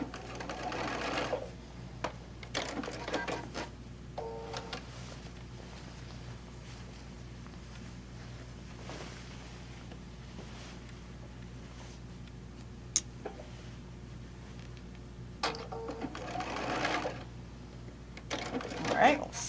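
A sewing machine quilt-tacking a quilt hums steadily at low level for a long stretch, with occasional clicks and brief louder bursts; voices talk intermittently over it.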